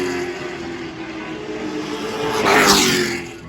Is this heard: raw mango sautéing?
no